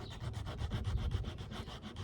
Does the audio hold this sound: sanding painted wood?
yes